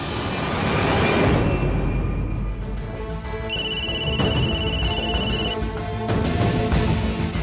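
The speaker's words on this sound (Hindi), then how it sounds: "तू फोन क्यों नहीं उठा रही है?" A phone rings in repeated electronic bursts over steady background noise, fairly close and with no one talking.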